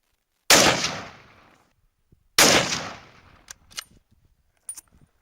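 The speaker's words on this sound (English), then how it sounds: "that was a fun rifle to shoot" Two loud, sharp rifle shots about two seconds apart, each with a long ringing decay outdoors, followed by a few faint metallic clicks of the action being worked.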